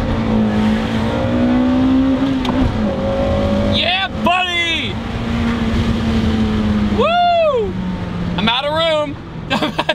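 A Honda Integra Type R is driven hard, its engine droning steadily with rising revs throughout, while someone talks over the sound from inside the car.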